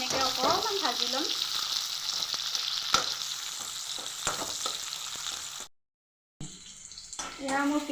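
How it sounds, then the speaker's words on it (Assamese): Onions fry in hot oil for fish curry with mustard seeds, a close, steady sizzle with stirring taps, briefly cut to silence before the crackle resumes, with someone speaking over it at times. "পিঁয়াজখিনি এনেকৈ অকণমান ভাজি ল'ম।"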